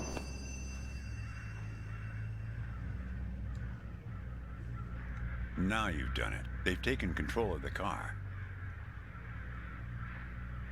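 Cawing crows from a video game, a burst of several harsh calls in the middle over a steady low engine-like drone, with people talking around them.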